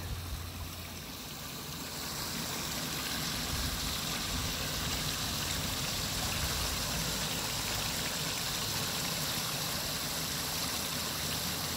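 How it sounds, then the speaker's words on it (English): A long-running waterfall at Natureland Park spills into Whitewater Lake, a steady broad rush of falling water that swells slightly after the first seconds and continues alone without talk. "Sometimes it's nice to get out of the rat race and just come and listen to the waterfall."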